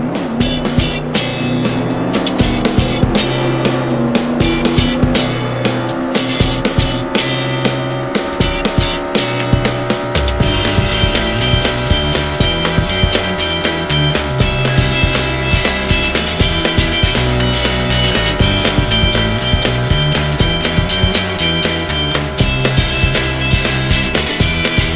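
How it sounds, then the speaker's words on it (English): Air Tail and Lamborghini cars racing in Roblox Jailbreak, with loud, continuous game engine roars rising in pitch throughout, accompanied by steady in-game music and effects. "First up is the Air Tail against the Lamborghini. Ready, set, and go!"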